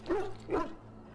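In Dragon Age: Origins, dogs give two short, moderately loud barks in quick succession, followed by a low background hum.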